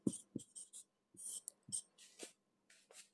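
Handwriting Sanskrit synonyms, with a pen scratching across paper in short bursts and strokes, fairly close and quiet, no voices.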